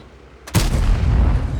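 A single loud tank cannon shot fired by a T-34-3 in World of Tanks on the Malinovka map, a sharp close crack followed by a heavy rumbling boom that trails off.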